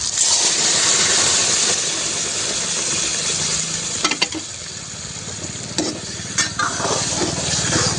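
Dhaba-style dal tadka tempering hisses loudly and continuously in hot oil while it is stirred, close up, with a few clattering knocks of the utensil near the end.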